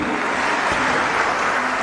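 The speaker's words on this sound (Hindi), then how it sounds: "जोरदार गड़गड़ा के ताली सब लोगन का होके के चाहिए" A large festival crowd at the Gorakhpur Mahotsav breaks into loud, sustained applause, a dense and steady roar of clapping hands that fills the whole stretch without pause.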